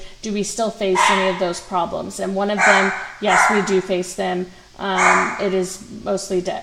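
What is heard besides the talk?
dog barking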